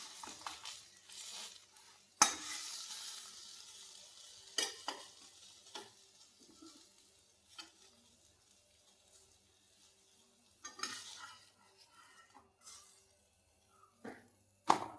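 Egg and wheat flour mixture stirred in a pan, with soft scraping strokes and faint sizzling frying under intermittent louder clinks of a utensil against the pan, no talking.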